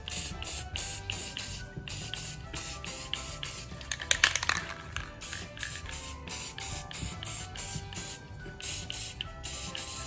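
Gold spray paint goes on in a light coat over a Dollar Tree Christmas craft piece, heard as a series of close, hissing spray bursts separated by brief pauses, with a denser burst midway.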